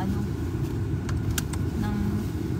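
Steady car traffic rumbles past on a city street in Finland, a continuous near engine and tyre drone filling the whole stretch with a few faint metallic clinks over it.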